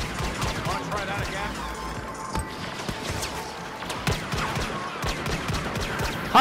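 Gunshots ring out in the Star Wars Battlefront game, scattered sharp blasts and impacts over a busy battle din, with a few louder reports standing out and a burst at the very end.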